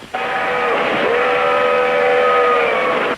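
A loud, steady American Flyer toy steam train whistle sounds a single sustained blast that holds for about three seconds, close and clear.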